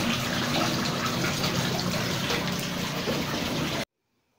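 Tap water runs steadily from a faucet into a styrofoam box filled with soil, a continuous splashing rush held for about four seconds before cutting off abruptly into silence.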